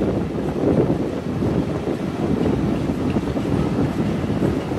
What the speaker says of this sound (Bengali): ট্রেনটি এখন শ্রীনগর রেল স্টেশন প্রবেশ করলো।